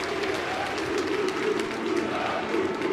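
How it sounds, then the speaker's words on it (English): Basketball arena crowd at an Indiana versus Maryland game roars in a sustained, loud wall of cheering and shouting, with no pause across the span. "Listen to this crowd."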